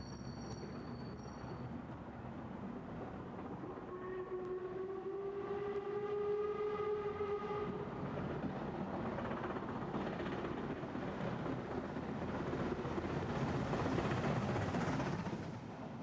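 A special train running south under overhead catenary on the slow lines, a low continuous rumble building and holding as it passes, with a drawn-out tonal whistle or horn sounding early on.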